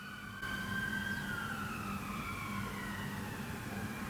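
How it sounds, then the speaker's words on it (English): Distant sirens wail from fire engines, their rising and falling tones carrying over low steady traffic rumble, fairly faint and far off. "Might be the fire engines."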